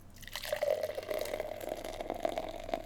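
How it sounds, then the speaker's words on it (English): Beer poured slowly into a glass in a long, deliberate pour, a steady close trickle and splash with small drips and fizzing, heard alone without talk. "Get into the theatrics of a 5-minute pour."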